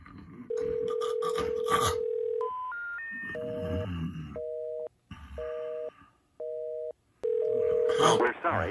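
Telephone line tones: a steady low tone, then three rising notes, then several evenly pulsed two-note beeps and a final held tone, loud and clear with nothing spoken over them.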